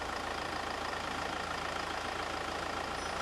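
A Kia Carnival engine runs steadily during a fuel flow check on a car with a faulty fuel filter check ball, a constant close idle hum and whir with no talk.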